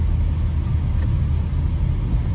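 A car drives through downtown Goma, heard from inside as a steady low engine and road rumble that stays constant throughout with no talking.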